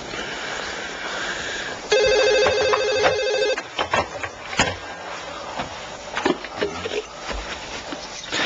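A telephone rings with an electronic tone in a short loud burst, followed by clatter, knocks and rustling handling noises nearby.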